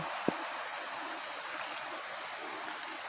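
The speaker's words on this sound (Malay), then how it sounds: "Ini batang air omilin." The Ombilin river flowing, a steady broadband rush of stream water with one brief thump near the start and a faint constant high tone throughout.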